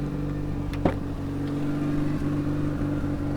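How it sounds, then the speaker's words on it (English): A 1992 Mazda RX-7 Type R FD3S rotary engine idles close by with a steady, buzzing hum whose pitch drifts up and down as the RPM wavers, with a brief blip near the start. "It does run kind of fluctuating RPM, which is kind of a normal thing for these RX-7s to do"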